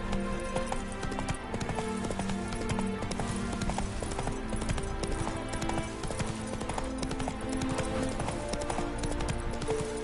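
Roach, the horse from The Witcher video game, runs with a steady stream of clip-clop hoofbeats beneath layered game music throughout.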